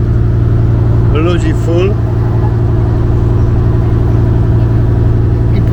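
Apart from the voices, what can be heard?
ferry boat engine running on the way to Koh Larn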